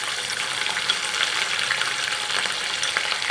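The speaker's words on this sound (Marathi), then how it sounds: "थोडेसे तळून झाले मसाले की मग आपण याच्यामध्ये वाटलेला जो आपला मसाला आहे तो टाकणार आहोत" Ground masala paste for matar paneer sizzles and fries in a hot pan, a dense, continuous crackling hiss heard up close, with no talking.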